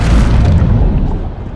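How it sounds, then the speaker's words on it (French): A loud, deep explosion of a shark crushed in a trash compactor in the film Deep Blue Sea 3, a heavy rumbling boom that fills the moment and slowly fades. "Il explose."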